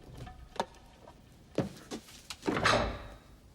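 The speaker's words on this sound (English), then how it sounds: "Did you just knock on a submarine's front door?" Knocking on a submarine hull door in The Hunt for Red October, a series of sharp, fairly faint metallic raps spaced irregularly, followed by a longer resonant clang and rumble.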